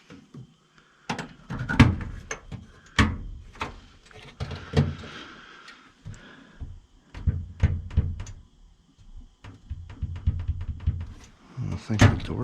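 The door switch on a Carrier unit gives off a scattered series of sharp clicks and hollow thunks across several seconds, close and fairly quiet, with some voices in the background.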